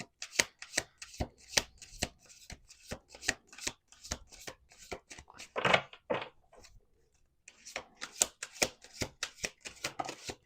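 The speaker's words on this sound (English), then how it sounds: "let's pull a few cards, see what happens" Tarot cards are riffled and shuffled, then drawn, in rapid rhythmic crisp flicks up close, with a brief pause before the shuffling resumes.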